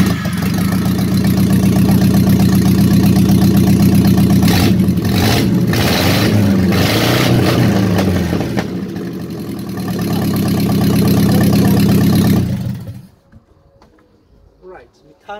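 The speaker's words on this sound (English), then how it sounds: "So when I put this one to the positive, it should crank and the engine should run" An overhauled Toyota 3Y engine fires up and runs loudly and steadily on a test stand, its revs rising and falling briefly mid-run, then cuts off and leaves a quiet tail at the end.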